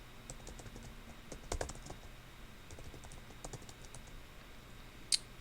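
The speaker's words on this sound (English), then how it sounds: "Let me just type it in quickly." Quick, light key presses tap out numbers on a calculator, a soft irregular patter of clicks up close in a quiet room, ending with one sharper tap.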